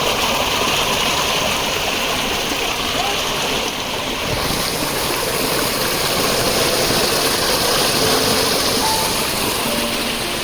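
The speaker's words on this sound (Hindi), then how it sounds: "कहीं से भी जमीन फोड़ के पानी निकल आता है।" Natural spring water bursting out of the ground on a mountain trail to Hemkund Sahib, a steady rushing flow that stays loud and continuous throughout, with faint voices in the background.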